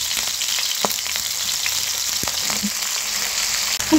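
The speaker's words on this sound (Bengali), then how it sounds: "ওই তেলেই দিয়ে দিচ্ছি ফুলকপি।" Cauliflower fries in hot oil left over from frying onions, giving a dense, even sizzle that carries on steadily. A few faint utensil knocks sound near the end.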